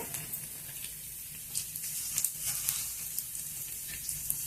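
Finely chopped garlic pieces frying in hot olive oil, with a steady close sizzle and crackle and small pops throughout.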